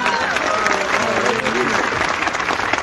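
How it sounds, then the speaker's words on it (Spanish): A crowd gathered at a religious event applauds loudly and steadily throughout. The clapping is dense and close, with a voice speaking over it. "Un fuerte aplauso para él."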